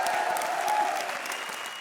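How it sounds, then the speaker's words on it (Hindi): Studio audience at a comedy show breaking into applause, a brief, full burst of dense clapping, fairly loud and close, with a light background tone underneath. "तालियां।"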